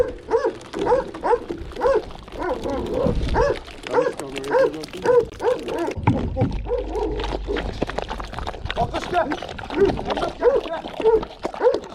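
Several Akbaş sheepdogs eat together from one bowl, with close, busy chewing, lapping and crunching plus occasional short barks, whimpers and yips while someone speaks over them.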